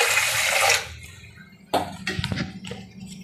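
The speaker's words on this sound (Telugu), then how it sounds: "ఇందులో ఒక 2 కప్స్ వాటర్ వేస్తున్నా" About two cups of water gush into a large bowl while gavvalu sugar syrup is made, a loud splashing pour that stops abruptly and is followed by clinks and small handling sounds.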